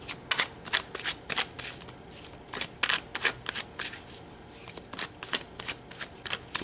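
Tarot cards being shuffled by hand, a quick run of crisp riffling bursts repeating in an uneven rhythm, close and clear with no talking.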